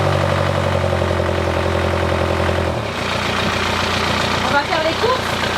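A boat diesel engine running after a new injection pump was installed, a steady idling rumble that shifts to a rougher, busier running note midway, with people talking over it.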